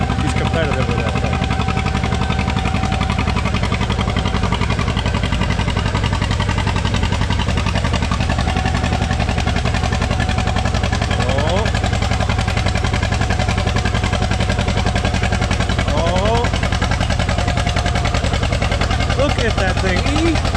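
An antique pulling tractor at a test-and-tune event in Shannon, Illinois, runs its engine hard the whole time. The loud, continuous rumble and drone shifts in pitch now and then, with voices faintly underneath.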